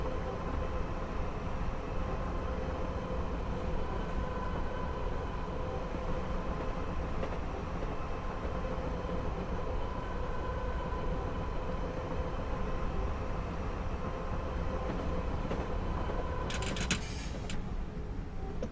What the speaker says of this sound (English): Put a reminder on that we're an 8-car train.